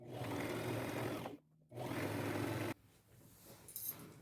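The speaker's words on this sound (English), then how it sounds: "I'm going to sew a straight stitch, 1/4 inch seam allowance" A sewing machine runs a straight stitch with a quarter-inch seam along a scarf, whirring steadily for over a second, pausing briefly, then running again before stopping; quiet handling follows.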